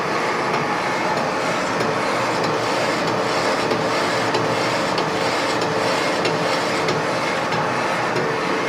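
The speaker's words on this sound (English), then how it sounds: "Now cleaning the inside and then doing a chamfer on the outside. And also deburring on the inside," A shortened Ford rear axle tube is chamfered and deburred with a steady, loud rasping grind that runs without pause, a dense scraping metal texture filling the whole stretch with no voices.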